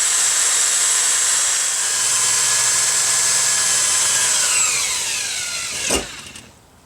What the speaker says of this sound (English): now I just need to drill the holes in the back of the seat plate to install the bracket